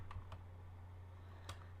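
A few soft, spaced keyboard clicks over a steady low electrical hum, with long quiet gaps between keystrokes.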